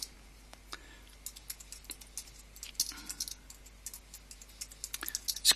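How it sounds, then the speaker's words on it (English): Computer keyboard typing while entering annotation text in Vectorworks, a quiet, irregular run of light key clicks that grows busier and slightly louder toward the end, with no talking. "So what we'll do is we'll start typing here."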